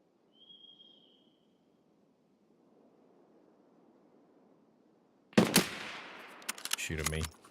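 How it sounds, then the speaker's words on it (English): Video game gunfire crackles in a sudden loud burst after near silence, followed by rapid repeated shots and a low thud, close and harsh. "Heard someone down there shooting some kind of suppressed gun."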